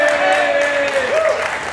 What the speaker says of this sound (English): for all of you that are clapping